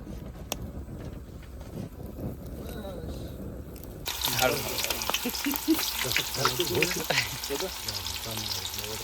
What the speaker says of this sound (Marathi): ती कलेजी भाजत आहेत